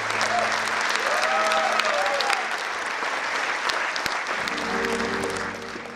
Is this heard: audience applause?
yes